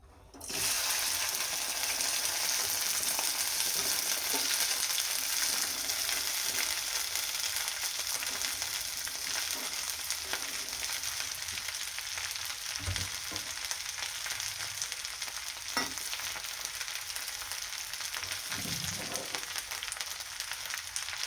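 Steady, loud sizzling of okra frying in hot oil, a continuous crackling hiss with occasional soft clinks of a utensil, no voices.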